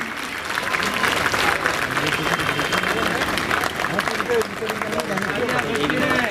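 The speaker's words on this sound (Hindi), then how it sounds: "खड़े होकर जोरदार तालियों से स्वागत करते हैं हम।" A standing crowd at a national Bahujan unity convention gives loud, sustained applause to welcome a leader, with dense clapping mixed with crowd murmur and voices throughout.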